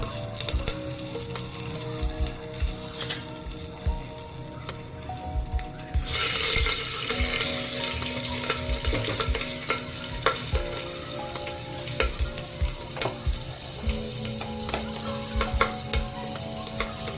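Curry leaves and green chillies sizzle in a ghee tempering for corn pulao, a crackling fry that jumps louder midway as more goes into the pan, with scattered clinks and scrapes of a spoon stirring.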